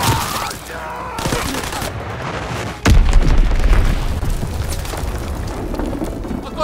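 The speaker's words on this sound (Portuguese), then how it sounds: "Bomba inimiga a caminho, protejam-se." Incoming enemy bomb in Call of Duty WWII team deathmatch on PC strikes as a loud boom that cuts in suddenly partway through, then carries a sustained rumbling roar beneath ongoing gunfire and battle noise.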